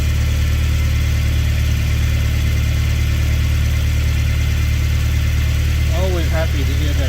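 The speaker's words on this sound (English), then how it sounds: "All right, let's start it up. First crank." A Toyota Previa engine, just back together after a cylinder head gasket replacement and still with an exhaust leak, runs at a steady idle throughout. The low rumble is loud and close and continues without a break, with a brief voice near the end.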